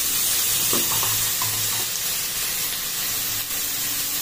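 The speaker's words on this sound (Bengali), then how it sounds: "মেথি শাক ভাজতে সবাই পারো, কিন্তু আমি আমার মতো করে দেখাচ্ছি যে আমি কিরকম করে ভাজি" Fenugreek greens with eggplant frying in a pan, giving a continuous loud sizzle with a few soft stirring scrapes near the start.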